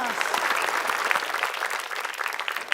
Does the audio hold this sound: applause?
yes